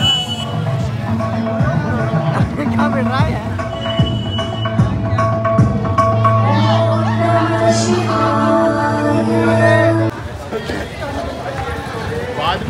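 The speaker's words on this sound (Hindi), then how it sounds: "यहाँ पर भीड़ देखिए आप कितनी हो रखी है" Dense, loud crowd babble from a large gathering at the Holi festival in Pushkar, with many overlapping voices, shouts and street commotion continuing steadily throughout, then thinning slightly near the end.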